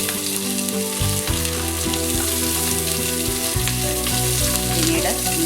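Shallots sizzling and frying in hot coconut oil in a pan for Kerala beef curry, a steady loud crackle running throughout with no talk.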